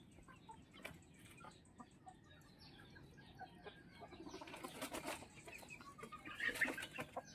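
Young chicks peep in a busy brooder, a dense chatter of thin, high calls that swells toward the end, with occasional wing flutters among them and no talking.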